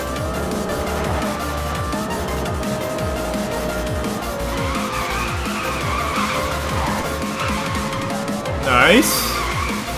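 An Audi R8 GT Spyder drifts in the racing game NFS: Most Wanted, with loud, continuous tire squeal over a roaring engine and a brief sharper screech near the end, under a man's short spoken remark.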